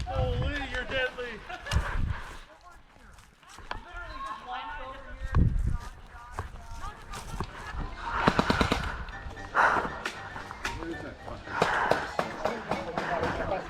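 Airsoft guns fire in quick bursts of sharp rattling shots, heavier near the end, mixed with footsteps and players talking and shouting throughout.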